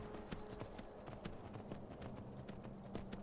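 Horse hooves clip-clopping at a steady riding pace in the video game Skyrim, a rhythmic series of close, distinct hoof strikes over faint background ambience, with no talking.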